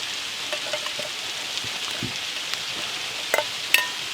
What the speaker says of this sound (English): we're going to go ahead and get the ground beef in the skillet